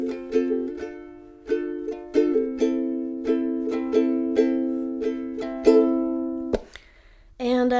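Ukulele strummed through the verse chords of a song in a steady down-up pattern, clear and close, ending with a final ringing chord before a brief noise.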